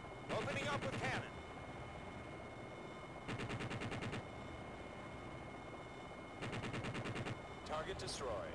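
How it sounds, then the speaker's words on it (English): In the Jane's Apache Longbow 2 helicopter simulation game, the cannon fires in three rapid bursts of about a second each, spread over several seconds, over a steady rotor and engine hum, with brief radio-style voice chatter. "Opening up with cannon."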